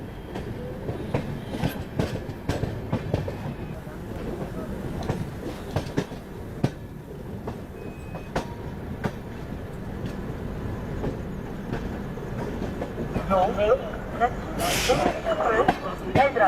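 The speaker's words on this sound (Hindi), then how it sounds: "अपनी राजधानी एक्सप्रेस एंट्री ले रही है झांसी जंक्शन रेलवे स्टेशन में" A Rajdhani Express train rolls into Jhansi Junction railway station, wheels clicking and clacking in steady rhythm as carriages pass close by, with a brief squeal near the end and voices talking over the platform noise.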